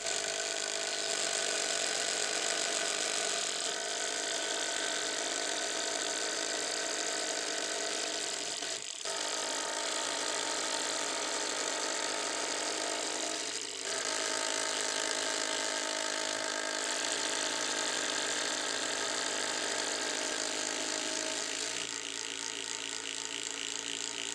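Cordless impact drivers, including a Warrior 58523, Ridgid and Hercules brushed models, drilling through wood with self-feed impact-rated spade bits from 1/4 to 3/4 inch; a dense, steady rattling hammer runs loudly and continuously with brief dips between bores.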